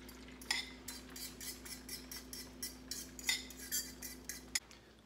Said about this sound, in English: So I'm making some eggs.